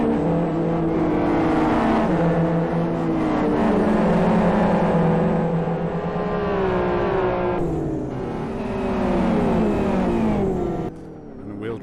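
Racing cars from Live for Speed sit in a traffic jam, engines revving and droning in shifting pitches, loud and close, with a brief drop near the end.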